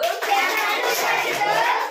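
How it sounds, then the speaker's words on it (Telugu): Children clapping their small hands in time while singing a devotional song, rapid patter of claps under continuous sung voices. "నా చిట్టి చేతులతో చప్పట్లు కొట్టుచు"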